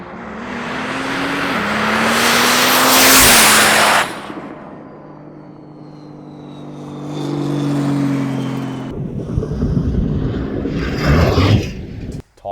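Cummins diesel pickup trucks, a 12-valve and a 24-valve, drag race on a track: a loud engine roars past up close and fades, then another engine revs and rises again later.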